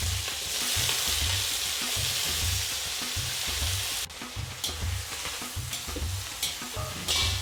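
Eggplant pieces sizzle and crackle steadily in hot coconut oil, loud and close, with a scraping stir partway through and the frying continuing on.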